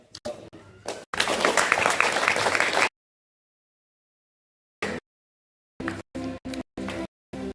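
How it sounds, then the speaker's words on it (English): Audience applause at an English speech competition, a short burst of clapping followed by a sustained round of applause lasting a couple of seconds, then scattered brief claps after a pause. "Give our applause to Brother Zaki."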